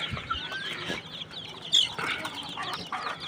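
Native chickens about three months old on a small farm cluck and chirp in short, overlapping calls, with a brief wing flap, fairly close.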